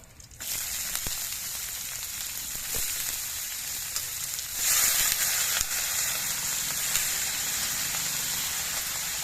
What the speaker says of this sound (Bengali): আদাটা ভাজা হয়ে কাঁচা গন্ধটা চলে গেছে এবার এর মধ্যে আমি বাঁধাকপিটা দিয়ে দিচ্ছি